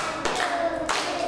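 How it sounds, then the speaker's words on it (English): Hands clapping in a classroom math lesson, two or three crisp claps spaced a beat apart against a quiet background. "Everybody clap your hands 3 times."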